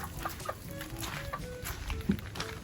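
A rooster clucks in short, soft bursts close by, a few low calls spread over a faint background hum.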